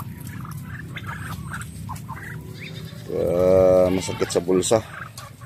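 Farm turkeys gobble loudly nearby in a rapid burst, with chickens and ducks around and a steady low murmur of fowl underneath, and a person speaks briefly over the birds.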